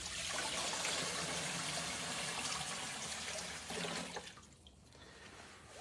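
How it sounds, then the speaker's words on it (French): Water poured into the tank of a Carbo Effect 3500 dry-ice heavy fog machine, a steady, faint rushing splash that runs continuously and then tapers off near the end. "Étape, remplir la machine de 10 litres d'eau."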